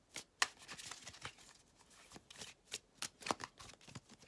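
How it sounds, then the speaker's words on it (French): Oracle cards being shuffled by hand, a soft, quiet series of papery riffles and slaps in irregular bursts, close by with no speech. "je brasse les cartes de l'oracle"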